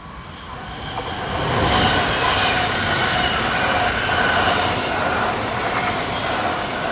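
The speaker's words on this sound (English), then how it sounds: "we see a Class 425 EMU passing through, forming a service to Osterburken" A Class 425 EMU electric train passes through Frankenstein station, its broad rushing roar rising and holding steady with faint wheel squeal and rail clatter, loud and close throughout.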